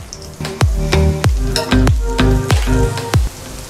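Garlic sizzles and crackles in hot oil for chicken 65, with repeated sharp stirring or spoon knocks against the pan at a steady pace, loud and close with no talk.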